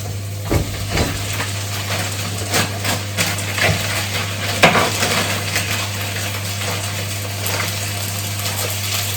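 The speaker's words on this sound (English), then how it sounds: "Once the onions and the garlic settle down, you add in 2 packets of mince." Beef or lamb mince frying with onions and garlic in a pan, a steady dense sizzle with occasional scrapes and stirring clatter throughout, under a constant low hum.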